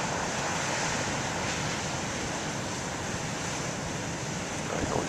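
Big ocean waves crash in a continuous, loud, broadband roar of surf with some wind rumble on the microphone, and no voices.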